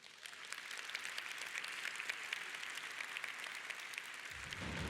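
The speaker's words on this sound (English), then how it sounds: "So can we give them a warm round of applause?" A conference plenary audience at an opening ceremony gives a warm round of applause, with dense, steady clapping that holds at an even level for the whole stretch and swells slightly at the end.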